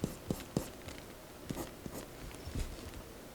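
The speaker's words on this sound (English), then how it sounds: "we're just going to be drawing here" A pencil scratches across paper while drawing the side of a skull, making short, close, irregular strokes and taps with no talking.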